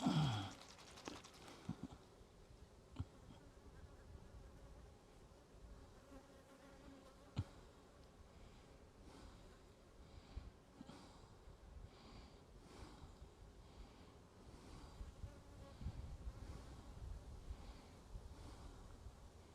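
Korora honey bees buzzing around an open hive during a varroa mite check: a faint, steady insect drone with soft rustles and a few light knocks, heard close and with no talk.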